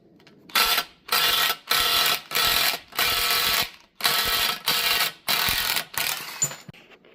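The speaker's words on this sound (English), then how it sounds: "now we're torquing it to 60 pounds to start with" A ratcheting torque wrench tightens a ball joint on a steering knuckle to 60 pounds during a ball joint delete install, giving about eight close, loud bursts of rapid clicking separated by brief pauses.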